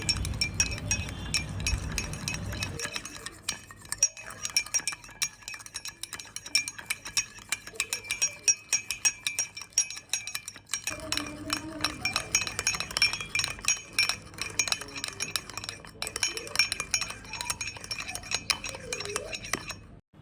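A spoon beats sugar, instant coffee and a little water together in a cup, giving rapid continuous clinking and scraping against the sides, with a voice talking over parts of it.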